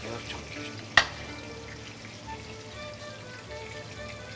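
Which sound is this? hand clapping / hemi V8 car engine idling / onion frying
onion frying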